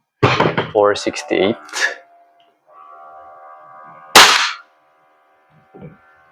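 A WE M4CQB airsoft gas blowback gun fires one sharp, loud crack, preceded by someone speaking briefly and followed by quiet.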